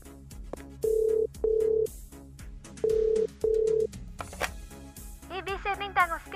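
A telephone rings in four evenly spaced electronic bursts, loud and close, as a call is placed, followed by people talking.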